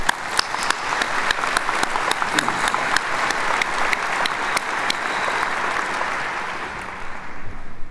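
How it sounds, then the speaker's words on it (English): Sustained applause from a large audience at a 2019 Kansas City medical school graduation ceremony, honoring alumni; dense, steady clapping across the whole stretch with sharper individual claps, slowly thinning near the end. "I think a round of applause for our alums"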